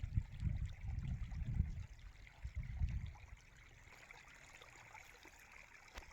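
Irrigation water flows into furrows of a field beside a mango tree, heard as a faint, steady trickling wash with some low rumbling handling noise early on, then a quieter continuous stream.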